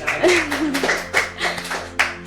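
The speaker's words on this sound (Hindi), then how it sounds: "मैडम के नाम पे तालियां" A small group claps in irregular bursts during a podcast-style alumni discussion, with a voice speaking briefly over the start of the applause.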